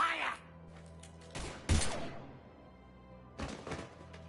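Gunfire in the video game Mass Effect 3, a few sharp shots and thuds in short bursts separated by quieter gaps, with faint voices and ambience between.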